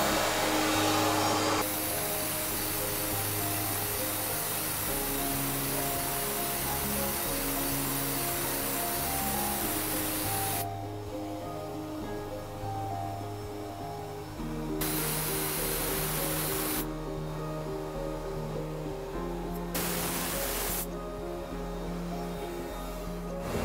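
A sandblasting machine runs with its air compressor and sand-recovery vacuum, making a loud, continuous hiss and blast with steady machine drone beneath that cuts in and out in several long bursts.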